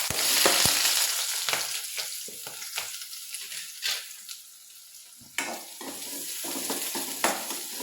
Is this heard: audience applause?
no